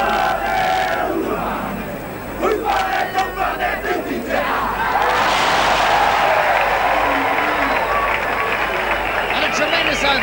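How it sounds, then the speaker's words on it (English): A packed stadium crowd at a 1985 New Zealand versus Australia rugby league test roars in a sustained ovation, the cheering swelling and holding loud for several seconds, with shouting voices mixed into the din. "Ovation from a very appreciative crowd who have seen entertaining football 2 weeks in a row"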